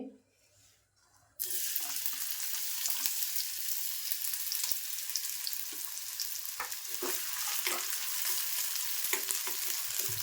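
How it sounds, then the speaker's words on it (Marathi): Onion dropped into hot oil in a kadhai erupts into a loud, continuous crackling sizzle after a brief quiet start, with occasional stirring clicks over the steady frying hiss. "आता मी कढई ठेवली आहे तेल टाकते आणि हा कांदा पण टाकून घेते"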